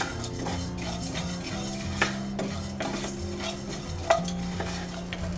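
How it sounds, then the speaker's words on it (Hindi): Whole spices including cardamom, cloves, a piece of cinnamon and mace stirred and dry roasted in a pan for Kashmiri dum aloo, with a steady low scraping hum and occasional sharp clinks of the spoon against the metal. "लगातार चलाते हुए 2 मिनट तक भूनेंगे"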